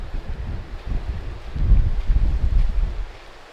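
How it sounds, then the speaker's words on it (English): Gusty wind on an exposed hillside buffets the microphone in low rumbling bursts, building in the middle and then easing off, with no one speaking. "It does get quite windy up here though"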